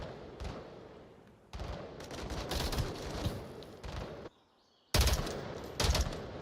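Sustained suppressive gunfire in the VR shooter Onward during a competitive match, with long dense bursts of automatic fire, a short lull, then more loud bursts close by.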